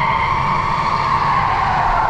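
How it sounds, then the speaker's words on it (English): Loud, continuous car tire screech with a strong engine roar underneath, sustained and close without letup, at the London Motor Show. "there's the car screeching again"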